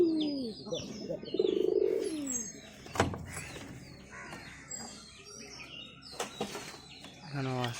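Pigeons at a backyard loft coo in soft low throaty calls, mixed with wing flaps, chirps from other birds and a sharp knock, moderately near with varying loudness.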